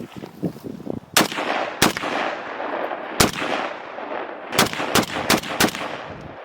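Galil ARM rifle fitted with a Romanian side-folding stock firing outdoors: nine sharp, loud gunshots, spaced irregularly, some single and some in quick pairs, each with a short echoing tail and no voices.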